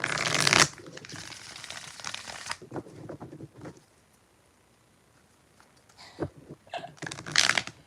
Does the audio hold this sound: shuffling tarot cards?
yes